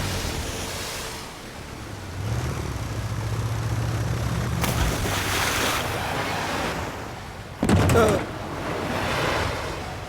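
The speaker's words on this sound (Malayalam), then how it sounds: "ബോട്ട് ഓടിക്കാൻ നിനക്ക് അറിഞ്ഞൂടെ?" A motorboat races across open water with wind buffeting and surf churning steadily, then a sudden loud crash and splash cuts through near the end.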